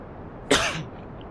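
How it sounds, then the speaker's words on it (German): One short, sharp cough from a man, close and loud against a quiet background. "Ich muss gerade mal kurz husten."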